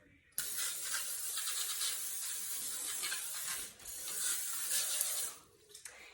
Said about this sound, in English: we are going to lightly coat them with some cooking spray